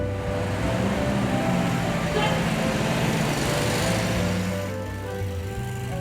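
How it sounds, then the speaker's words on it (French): Street traffic passes on a city road in Douala, Cameroon, a continuous engine hum and drone from several cars and motorbikes at moderate distance, with an occasional louder pass. "Le calme qui prend peu à peu place est troublé par le bruit des voitures."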